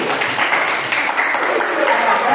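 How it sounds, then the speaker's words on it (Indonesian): Children clap together for a group in a classroom, producing dense, continuous applause up close with a few voices mixed in. "tepuk tangan untuk kelompok hasil"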